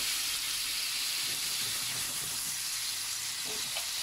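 Beef bourguignon made without alcohol simmers gently in a pot with a little added water, giving a steady broadband sizzle and soft bubbling hiss that stays even and close throughout, with no voices.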